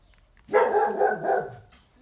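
Dogs barking indoors in a home craft room, a burst of overlapping barks lasting over a second, moderately loud and with no talk.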